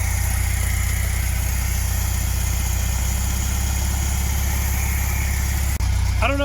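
A classic Volkswagen Beetle engine idles steadily with an even, rough low thrum throughout, close and loud, before a brief dip and a change in tone near the end.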